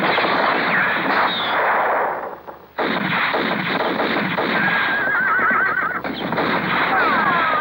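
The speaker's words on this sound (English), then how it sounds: "They're not shooting at us. They're shooting at him." Gunfire in a classic western film: rapid, loud volleys of shots blend with a whinnying horse and hoofbeats, dense and continuous apart from a brief lull near the middle.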